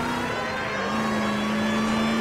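A car engine in the L.A. Noire video game drones steadily with a constant whirring tone while driving, loud and unbroken throughout.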